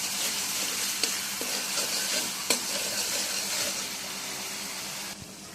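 Spiced onion-garlic paste sizzles in a pan for a kala bhuna mutton curry, a steady close frying hiss broken by a few sharp clacks of the spatula as it is stirred.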